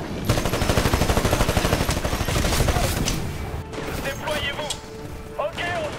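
Rapid automatic gunfire from a Titanfall online match, a dense stream of loud shots for about three seconds before thinning into scattered bursts and clanks.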